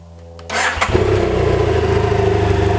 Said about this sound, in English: So now what I'm going to do is start it up and test it to make sure there's no leaking.